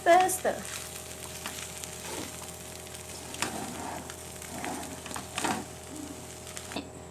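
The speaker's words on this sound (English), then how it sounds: "I'm adding them right now. This is just to give that extra delicious. And then we stir." Mee goreng noodles with crushed peanuts are being stirred in a hot pan. A soft, continuous sizzle runs underneath, with faint scraping stir strokes recurring every second or so, fairly quiet and close.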